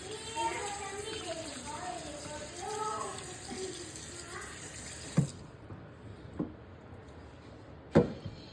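Fish being rinsed clean under a running kitchen tap, a steady splashing water stream with a voice speaking over it, then the flow stops and a few sharp knocks follow in a quieter room.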